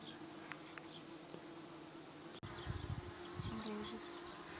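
A faint, steady hum of honeybees fanning at a hive entrance fills the air, with a few soft thumps and rustles close by.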